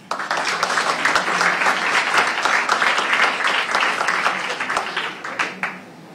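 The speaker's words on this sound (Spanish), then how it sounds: "Le recibimos con un caluroso aplauso." An audience at a Spanish Language Day celebration gives warm applause to welcome a moderator, a full, steady round of many clapping hands that rises quickly and tapers off near the end.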